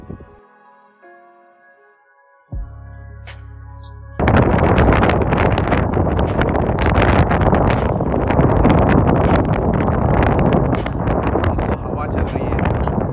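Strong wind blows across an open kite-flying field at a kite match, a loud, steady roaring gust that buffets the microphone after a few seconds of quieter sound.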